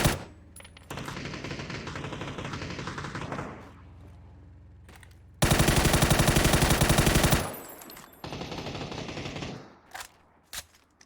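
Rapid automatic gunfire in PUBG, several loud sustained bursts of machine-gun fire separated by short pauses, with a few scattered single shots trailing off at the end.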